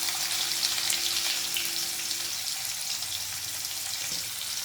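Onion sizzling in hot oil with cumin seeds and asafoetida, a steady close crackle and hiss that continues without pause, with no talking.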